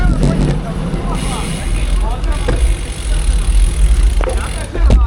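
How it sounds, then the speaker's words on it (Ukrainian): A car drives past a group of cyclists on a road during a 200 km road brevet, a steady rushing roar over wind noise, with people talking throughout. "Отойди, машина їде."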